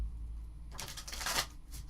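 Playing cards riffle-shuffled in a short burst of crisp, papery flutter lasting about a second, close and fairly loud over a low background hum, with no talking.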